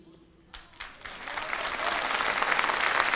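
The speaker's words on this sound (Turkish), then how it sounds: "Bakın onlar da alkışlıyorlar." A television studio audience breaks into applause that starts with a few scattered claps and swells into steady, dense clapping, loud and close, with a voice faintly heard beforehand.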